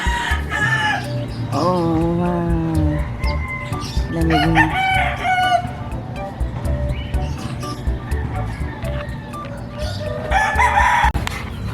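Nearby roosters crow repeatedly with drawn-out calls, amid hens clucking and other birds; a person briefly speaks between crows.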